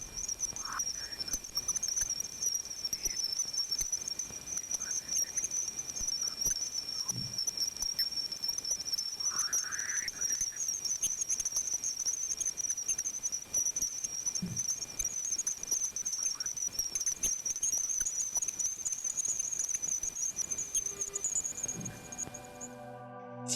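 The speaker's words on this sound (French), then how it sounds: "Voici le son de Jupiter." Voyager 1 plasma wave recording of Jupiter: a steady, thin high-pitched whine runs throughout, dotted with scattered faint chirps and crackling patter, all fairly quiet.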